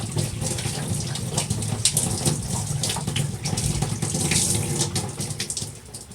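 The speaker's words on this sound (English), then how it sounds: "I'm going to pour it into the sink." Dirty water from the tank of a Bissell Spot Clean Professional portable carpet cleaner splashes steadily into a sink for several seconds, a continuous gurgling pour that tapers slightly at the end.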